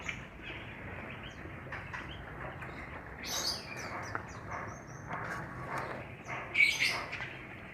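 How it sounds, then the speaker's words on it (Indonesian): Grey-cheeked bulbuls are let loose into an aviary, giving faint scattered chirps and brief bursts of wing flapping over a quiet background, with a louder flurry near the end. "Oke, kita langsung rilis saja burungnya."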